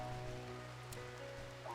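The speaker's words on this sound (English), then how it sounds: "Oh, it's raining outside." Steady rain falls outside an open window, a soft continuous hiss of drops on surfaces heard faintly from indoors, with a low steady hum beneath and no talking.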